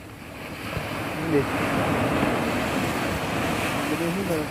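Surf washing in at high tide beside a home, a steady broad roar of water with wind buffeting the microphone and faint voices underneath throughout.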